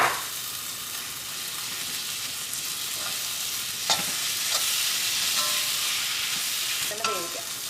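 Tomatoes frying in a pan for Kerala-style beef varattiyathu make a steady, close sizzle, broken by a few stirring scrapes partway through and near the end.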